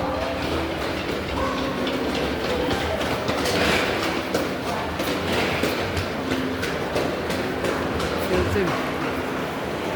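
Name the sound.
train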